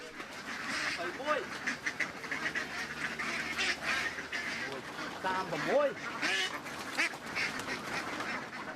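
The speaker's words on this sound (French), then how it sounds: "Nous les aidons à charger des centaines de canards dans un camion." Hundreds of ducks being loaded into a truck in Cambodia quack loudly and continuously in a crowded, clamorous chorus, with people talking among the noise.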